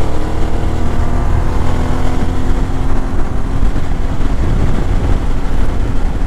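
Several motorcycles, including a Suzuki V-Strom 650 Adventure, overtaking on the Great Ocean Road toward Warrnambool, Victoria: a loud, steady engine roar with wind rush, continuous and close throughout, no talk.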